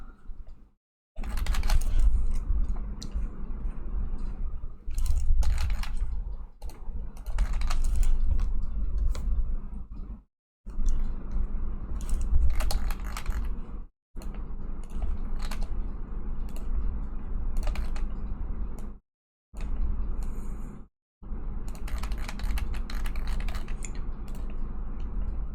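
Computer keyboard typing runs through the background at a home drawing stream, a near-constant stream of soft clicks with a low hum beneath, broken by a few short silent gaps.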